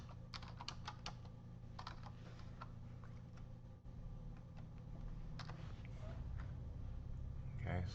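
Rapid clicks of typing on a computer keyboard while entering text in WeCreat MakeIt laser engraver software. The bursts of keystrokes sit close and steady over a low background hum, with a person speaking alongside.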